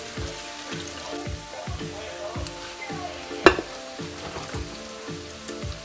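Pork chops fry in hot grease for smothered pork chops with gravy, giving a steady close sizzle with rhythmic pulsing and one sharp clatter midway, with no voices.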